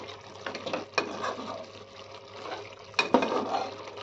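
Peas and tomato stirred in a pan after salt goes in, with soft wet scraping and a few spoon knocks against the pan, close and fairly quiet.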